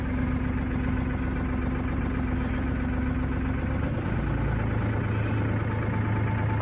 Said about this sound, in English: we're going to take the tractor back to the barn